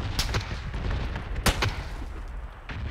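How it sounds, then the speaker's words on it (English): Video game role-play gunfire: several sharp, separate shots crack out at irregular intervals against a steady low rumble of game ambience, with no talking. "I'm getting shot at!"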